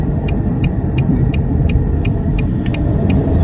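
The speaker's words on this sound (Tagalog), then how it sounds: "murag daghan mang sakyanan, murag traffic man" Road traffic with many cars, a loud, steady rumble of passing engines close by, with a string of short, sharp ticking clicks sounding along with it.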